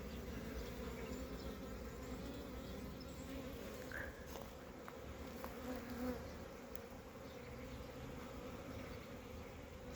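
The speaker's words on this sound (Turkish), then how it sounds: "Gerçekten arı sesini özlemişiz" Honeybees buzzing around their hives in early spring as pollen starts coming in, a dense, steady hum from many insects filling the air at moderate volume, with no voices.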